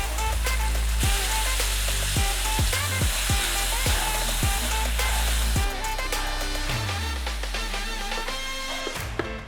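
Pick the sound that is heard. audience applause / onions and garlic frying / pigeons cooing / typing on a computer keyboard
onions and garlic frying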